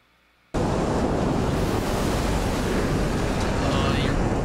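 Loud, steady roar of crashing ocean waves in a stormy sea scene from the TV series 1899, bursting in after a brief quiet and continuing as a dense, unbroken wash of surf and wind.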